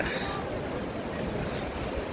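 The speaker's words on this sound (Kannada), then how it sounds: "ಹಾಲಿನ ರೀತಿಯಲ್ಲಿ ಕಾಣಿಸುವಂತಹ ಜಲಪಾತ ಅಂತಲೇ ಹೇಳ್ಬೋದು" Barachukki waterfall on the Kaveri at Shivanasamudra, Karnataka, roars as a steady, dense wash of rushing water, loud and unbroken throughout.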